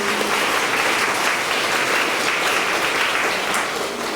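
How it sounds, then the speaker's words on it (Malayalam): A congregation at a charismatic retreat in Ernakulam claps together in dense, continuous applause that stays loud and even from start to finish. "കൈയടിച്ച് കർത്താവ് നന്ദി പറയാൻ"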